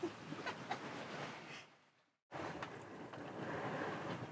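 A sailing boat slices through sea water in fine conditions, a continuous rushing wash with wind buffeting. It fades briefly to near silence, then resumes steady and close.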